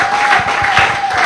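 A church congregation at a worship service claps and acclaims together, a dense, loud wash of hands and voices with a sustained tone running underneath through the brief burst.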